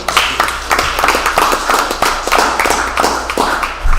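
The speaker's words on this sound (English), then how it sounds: "So I think we should applaud him." School board meeting attendees clap for the high school's male athlete of the year, loud, close, uneven bursts of hand claps from a modest group, rising and dipping in rough waves.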